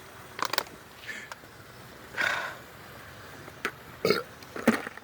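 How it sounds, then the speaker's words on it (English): Several belches from a person chugging a drink outdoors, short croaky bursts spaced irregularly, close and fairly loud over a quiet background. "Wow, yeah, satisfying belch."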